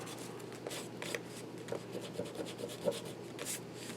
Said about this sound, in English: you just take your rubber eraser and you pick up that excess glue